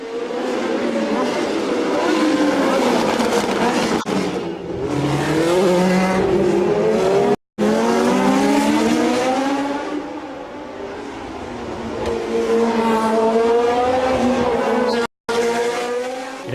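Historic Formula 1 cars from 1966 to 1975, including a Shadow DN5 and a Tyrrell 006, race around the Monaco street circuit. Loud, continuous engine howls rise and fall through gear changes as cars pass close by, with brief cuts in the sound.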